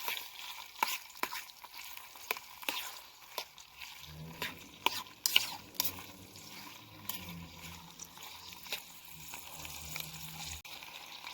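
Chicken hearts fry in sunflower oil in a pan on a portable gas burner at an outdoor camp, starting with clicks and utensil taps, then a soft close sizzle with scraping stirs.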